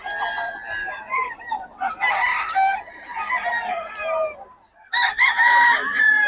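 Gamefowl roosters crow at a crowded fowl market in Bocaue. Several loud, close crows overlap with clucking, with a short pause before another burst of crowing.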